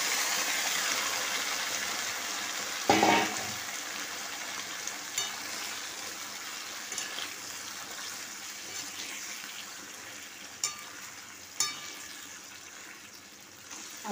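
Boiled malabar spinach goes into a pan of fried onions and is stirred, a soft ongoing sizzle with a wet thump as it lands and occasional clinks of the spoon, fairly quiet.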